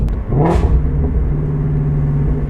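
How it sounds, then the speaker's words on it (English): A Ford Shelby GT350 V8 blips sharply on a downshift, a brief loud rev spike over a steady, deep, close engine rumble. "on the downshifts, it's got a violent snap"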